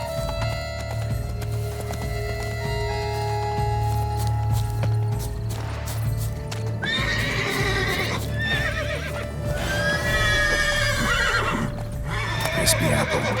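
A horse neighs loudly twice in the second half of a scene in the video game The Witcher 3: Blood and Wine, over a steady low hum, with faint hoof clip-clops in the background.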